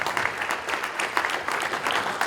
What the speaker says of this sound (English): I want you guys to give yourselves an applause for being you